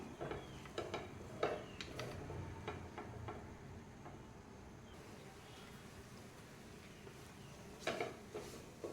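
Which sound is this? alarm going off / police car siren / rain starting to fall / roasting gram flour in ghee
roasting gram flour in ghee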